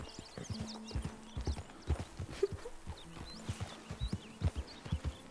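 Horse hooves clip-clopping steadily in the video game Red Dead Redemption 2, a regular walking rhythm of close hoof strikes with ambient birdsong faintly behind.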